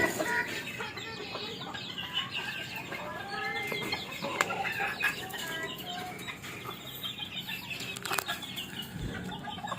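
A Serama hen clucks repeatedly up close near a chick amid busy chirping and rustling, with occasional wing flaps and other fowl sounds around.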